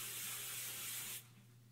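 A can of hairspray hisses onto hair in one short, close, steady burst while a side bun is styled, then cuts off, leaving a faint background hum.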